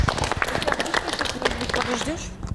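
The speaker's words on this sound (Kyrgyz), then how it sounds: "Кол чаап коюңуздар, катыра." An audience claps after a Kyrgyz dance, brisk uneven applause mixed with a speaking voice and light crowd noise.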